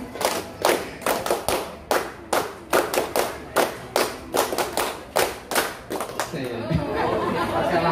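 A group of kindergarten children claps the 'tepuk kadarkum' pattern in sharp, rhythmic unison bursts, then breaks into lively chatter and noise.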